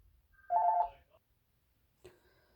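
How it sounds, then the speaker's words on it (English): A phone rings indoors during a pause in work on a book, with one longer ring burst followed by a short second chirp, moderately loud against a quiet room. "Oh, geez, now my phone's ringing."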